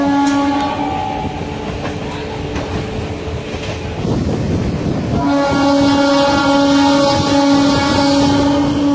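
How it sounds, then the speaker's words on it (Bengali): Passenger train at Pataliputra Junction station, loud and close, with rumbling wheels and a sustained horn blast that rises in the latter half over the steady rail noise. "তো আমাদের ট্রেন দাঁড়িয়ে রয়েছে এখন।"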